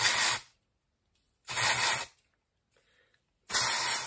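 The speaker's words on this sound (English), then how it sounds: "I'm just going to grab my dry shampoo, and I'm just going to hold my hair and spray it in just at different sections." Three short bursts of dry shampoo sprayed from an aerosol can into sections of hair, each a crisp close hiss lasting about half a second, separated by silence.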